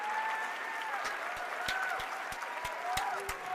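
A large convention crowd at a Star Wars Celebration panel applauds steadily, with a few whoops and sharp individual claps standing out, and brief vocal cheers rising over the clapping.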